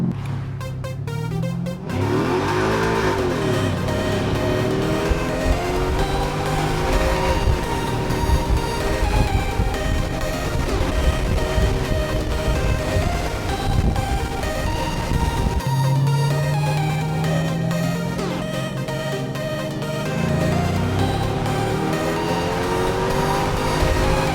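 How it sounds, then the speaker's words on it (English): A weight-reduced car accelerates hard through repeated full-throttle pulls, its engine note climbing loud and close through the gears with brief tire squeal at the start, continuous and without talk. "So we're going to show you some pulls and see how the car does."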